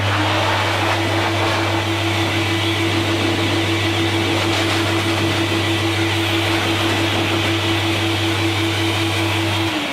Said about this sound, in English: I'm going to turn the blow dryer on real quick and just clear all the loose hair off.